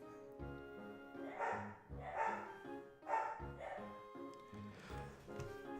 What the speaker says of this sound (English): They won't stop barking.